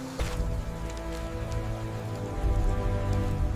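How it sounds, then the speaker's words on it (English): Steady rain falls in a continuous wash over surfaces, with a low rumbling bed beneath it and no voices, in a cinematic war setting. "Rain fell"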